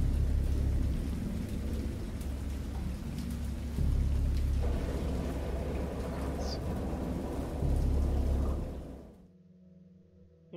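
Steady heavy rain pours with deep rumbling thunder rolling underneath, the storm cutting off abruptly near the end.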